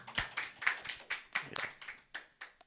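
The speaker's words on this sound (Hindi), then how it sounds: "उस पर लगा दीजिए या ताली बजा दीजिए" A small group of people clapping in a classroom or meeting room, a dozen or so uneven claps over a few seconds, moderately near, fading toward the end.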